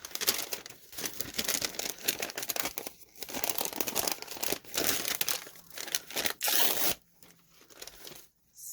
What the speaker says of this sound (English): I have some wrapping paper, some vintage wrapping paper.